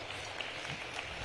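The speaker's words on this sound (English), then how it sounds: "let's give him a very big round of applause." Brief burst of audience applause, a dense wash of clapping from a crowd.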